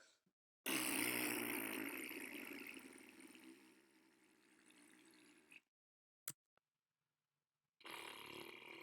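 A recorded fart sound plays back from a file, a long loud rasping burst that tapers off over several seconds, followed by silence and a few short clicks.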